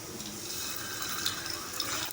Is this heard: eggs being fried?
yes